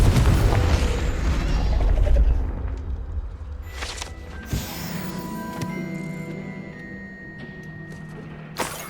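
A blasting spell bursts in a fantasy wizard video game, a heavy booming explosion with a rumbling tail that fades, followed by a few sharper bangs and mechanical clanks.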